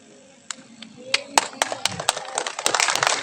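Scattered claps swell into a growing round of applause at a ceremony for National Santri Day in Nagekeo, starting as isolated hand claps and thickening into a crowd clapping, with faint voices underneath.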